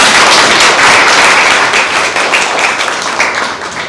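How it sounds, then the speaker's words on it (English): Sustained applause from an audience at an indoor corporate collaboration event, dense loud clapping that holds steady and then slowly thins toward the end. "Clap, please."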